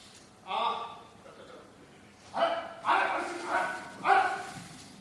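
A dog out on an evening walk in a busy market barks several times in short sharp bursts, close by, while someone speaks around the barks.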